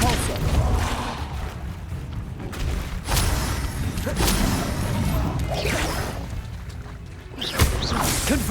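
Spell impacts in Hogwarts Legacy's combat: a string of whooshing casts and heavy smashing hits, dense and loud, with several sharp crashes spaced through a busy battle.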